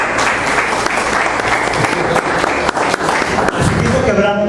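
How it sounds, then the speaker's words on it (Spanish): A church congregation breaks into loud, sustained applause, dense and continuous throughout, with the sound changing slightly near the end. "Démosle ese fuerte aplauso de bienvenida."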